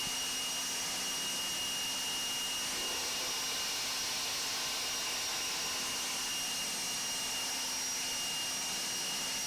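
Dewalt 60V FlexVolt cordless leaf blower running, a loud steady high-pitched whooshing whine with a constant motor tone, unbroken for the whole stretch, heard from about three feet away.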